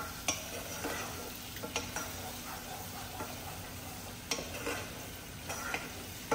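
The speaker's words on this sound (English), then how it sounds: "So get you a wooden spoon and just mix that around a little bit" A wooden spoon mixing orzo in a single pan for lemon caper orzo with tuna: a soft, steady sizzle with light, regular scraping knocks, fairly quiet and without voices.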